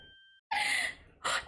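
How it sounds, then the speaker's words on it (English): A character in The Great Ace Attorney Chronicles gasps: two sharp breathy intakes, the first longer and the second shorter, close and fairly loud after a short silence. "Gasp."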